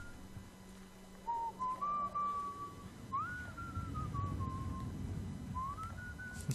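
An enemy soldier whistles in the video game Sniper Ghost Warrior 2, in a few drawn-out melodic phrases at moderate distance over a low ambient game background.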